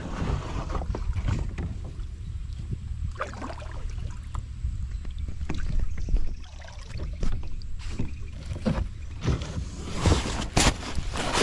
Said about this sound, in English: I'm actually able to just send the kayak under and then crawl over.